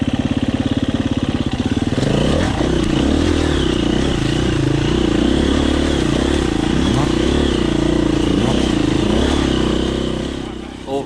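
Dirt bikes ride past, a 2021 Husqvarna TE250 two-stroke enduro and a four-stroke, with a loud steady engine drone and rising revs that stay near throughout, plus some rattling clatter.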